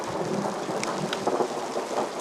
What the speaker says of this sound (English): During a storm, loud thunder may make you jump